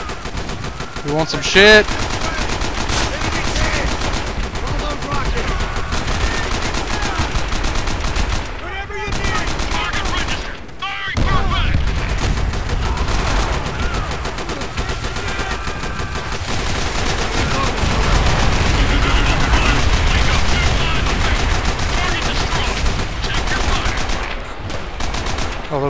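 Rapid machine gun bursts and scattered gunfire rattle through a Call of Duty: World at War battle, loud and nearly continuous, with players talking over the shooting.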